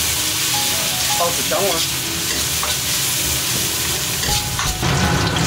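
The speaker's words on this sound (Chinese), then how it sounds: "把香料、小火先炒一下" Spices stir-fried over low heat in a wok while preparing tea-smoked squab give a steady sizzle with scraping stirs throughout, loud and close, and a voice speaks briefly over it.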